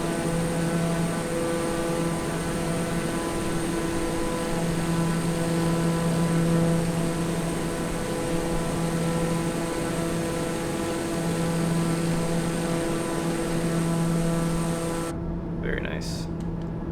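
Steady propeller aircraft engine drone from Microsoft Flight Simulator, a continuous loud hum with a constant tone held throughout, cut off briefly near the end.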